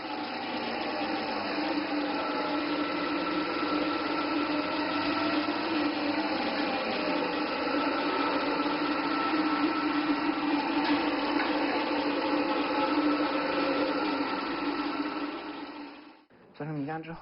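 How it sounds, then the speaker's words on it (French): A grinding machine runs steadily for about sixteen seconds as it breaks up soaked rice into rice milk for a bubble tea dessert, with a constant whirring hum, then cuts out abruptly near the end. "Oui, la machine commence à broyer."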